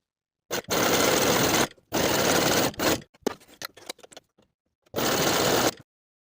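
A sewing machine stitches a jersey seam and backstitches to secure it, in three separate bursts of steady whirring. Quieter fabric handling and rustling fill the short gaps between the runs.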